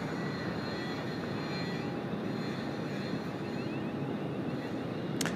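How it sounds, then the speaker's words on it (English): An Asiana airliner, flight 602 bound for Seoul, taxis out for departure at Sydney Airport, giving a steady, loud, broad engine roar that holds evenly throughout. "And the Asiana 602 now taxiing out as well for departure heading off to Seoul today"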